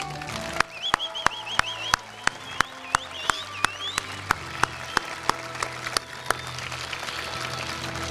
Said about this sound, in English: So those are our Eagle Scouts in association with Follow the Flag this year. Please give them applause